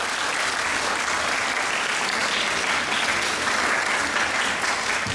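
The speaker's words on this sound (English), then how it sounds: "Ladies and gentlemen, please join me in welcoming with a loud round of applause, Dr. Father Selvaraj Arunathan SJ." A seminar audience applauds steadily, dense clapping that stays loud and even from start to finish with no voices over it.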